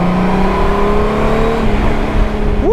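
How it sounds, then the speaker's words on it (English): A Honda Goldwing motorcycle engine hums and revs steadily up close at speed, its tone sliding gradually, joined by wind rush, with a quick rising whine near the end. "This really is a very impressive motorcycle."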